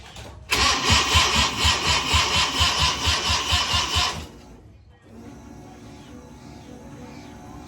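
A Mazda RX-7 rotary engine with an EFI conversion cranks over with a rhythmic, pulsing starter churn for about four seconds, then drops to a steady low idle that continues to the end, close and loud.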